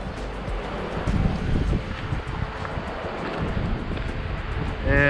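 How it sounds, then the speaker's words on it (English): Rushing water of the Fann Niagara waterfall in Tajikistan's Fann mountains, a steady broadband roar that continues unbroken and fairly loud for the whole stretch, with no voices. "here's the waterfall."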